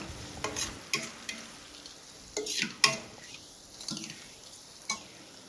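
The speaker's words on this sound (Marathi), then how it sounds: "लाल मिरची पावडर ऍड करायची मिरची पावडर व्यवस्थित परतून घ्यायची आहे" Red chilli powder sizzles in a kadhai with a spatula scraping and stirring in short bursts, close up, with a steady crackling hiss underneath.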